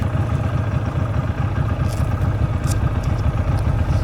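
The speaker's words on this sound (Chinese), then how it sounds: "说实话，奔达的车这个排气声音还是很有辨识度的，就是轰隆轰隆轰隆的" A Benda Greystone BD250 motorcycle with a 250cc engine rumbles close by, its exhaust giving a steady, loud, low throbbing pulse with faint higher clinks above it.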